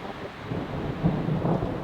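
Rain patters on a tent canopy during a severe storm while camping, a dense loud rumbling wash of drops that swells midway, close overhead, with no voices.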